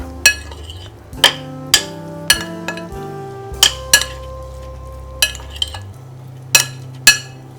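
Fish strips are tossed with black pepper and salt in a bowl, giving a series of sharp clinks and taps of a utensil against the dish, spaced irregularly and close up, with no talking.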